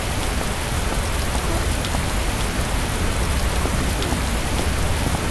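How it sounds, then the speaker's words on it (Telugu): Heavy rain pours down steadily and loudly, a dense unbroken hiss of water striking surfaces all around, with no voices. "అయ్యో వర్షం పుట్టి కొడుతుంది."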